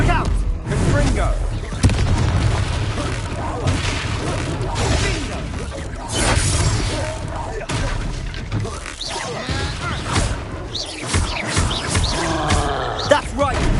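A Confringo blast spell from Hogwarts Legacy erupts in a loud booming, crashing burst amid chaotic battle noise, with voices shouting over and around the fire.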